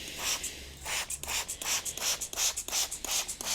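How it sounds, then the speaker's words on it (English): Green Star cleaner sprayed onto a car interior in a quick run of short, wet hissing bursts, evenly paced and close, with no voices. "So you're getting a lot of overspray, a lot of mist and dirt."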